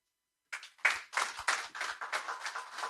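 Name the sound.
audience applause after a speech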